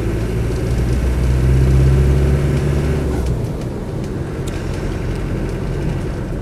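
A Land Rover 90 with a 200TDi diesel engine running, a steady low rumbling drone that eases slightly after a few seconds and carries on evenly, close by with no voices.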